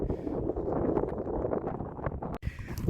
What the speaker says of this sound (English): the wind has got up and it's quite cold